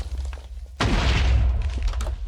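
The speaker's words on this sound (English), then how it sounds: "All right, I hear explosions." A Minecraft explosion erupts suddenly as a loud, deep boom with a crackling burst, following a low rumbling background and fading into debris-like rumble.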